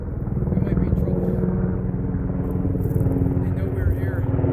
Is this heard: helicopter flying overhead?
yes